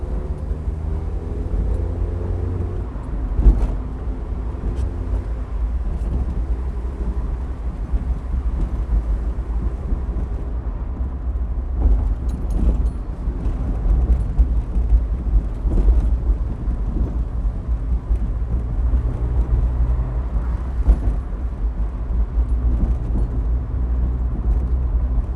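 A Mazda MX-5 rolls along a particularly bumpy road with a steady low rumble of road and engine noise, broken by occasional bumps and thuds, with no one talking.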